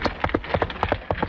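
Radio sound effect of a horse and wagon, with plungers beating out hoofbeats and a box on casters rolled by foot for the wagon. Steady clip-clop thuds fall about every quarter second, close and moderately loud.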